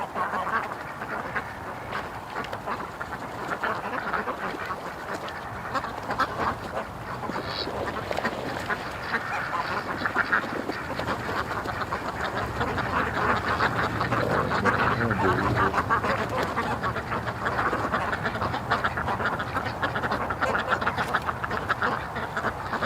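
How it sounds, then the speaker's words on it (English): A wild duck quacks repeatedly amid a constant, noisy background, its calls fairly loud and close across the whole stretch. "everybody's freaking out there because there's a wild duck"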